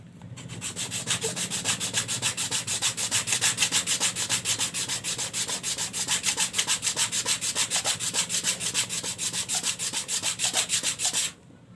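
Worn sandpaper rubs back and forth in a fast, steady rhythm while shaping a tiny 1.5 cm model jaws piece, close and continuous for about eleven seconds, then stops abruptly.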